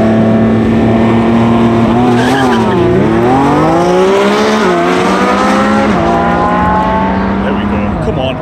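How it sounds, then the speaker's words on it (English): A Lamborghini Revuelto launches hard, its loud engine note rising and falling through gear-like sweeps while tyres squeal close by over a sustained roar. "At least he's heating up the tyres."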